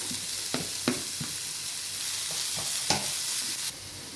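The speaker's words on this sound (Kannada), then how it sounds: "ಕ್ಯಾಪ್ಸಿಕಮ್ ಆ್ಯಡ್ ಮಾಡ್ಕೊತಾ ಇದ್ದೀನಿ. ಇದು ಸ್ವಲ್ಪ ಫ್ರೈ ಆಗಿದೆ. ಈಗ ಎಲೆಕೋಸನ್ನು ಹಾಕ್ತಾ ಇದ್ದೀನಿ." Capsicum and cabbage for street-style veg rolls fry in a pan with a steady sizzle, while a utensil scrapes and stirs in several sharp, irregular strokes close by; no one speaks.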